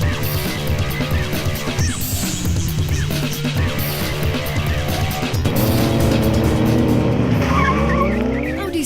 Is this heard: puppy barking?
no